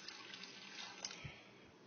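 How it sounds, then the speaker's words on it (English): Water poured slowly from a container over soap while mixing a homemade soft scrub cleaner: a faint, steady splashing trickle with no talk. "so we've got some water here. I'm just going to barely pour it in."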